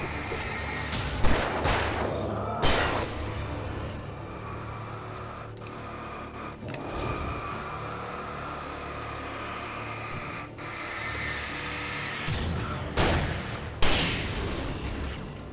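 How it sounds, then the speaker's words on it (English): In the horror video game Alan Wake Remastered, flashbang grenades go off as several loud, sharp bursts spread across the scene, separated by rumbling game ambience and with no talk over them. "Really do like those flashbang grenades."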